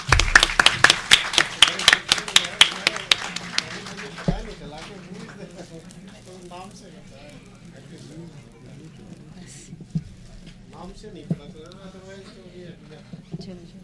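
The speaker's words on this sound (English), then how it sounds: "Please give a huge round of applause." Audience applause at a lecture felicitation ceremony: a burst of sharp individual hand claps for about four seconds, then fading into scattered claps while people talk in the room.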